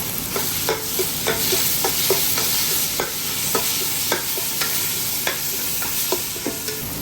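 Green chillies, mint, onion and tomato frying in a pan for a Kerala-style chicken parts curry, stirred with repeated sharp scraping strokes over a steady close sizzle, no voices.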